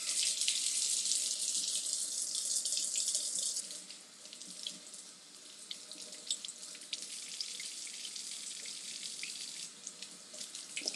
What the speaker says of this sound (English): It says to run water on the base of it.